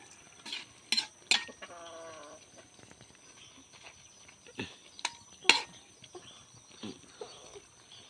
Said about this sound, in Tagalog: Haluin lang natin itong ating gulay na talabos